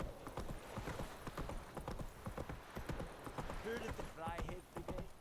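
Horse hooves gallop in the video game Witcher 3, a quick steady clip-clop rhythm of hoofbeats close up, with a short neigh near the end and a voice speaking over it.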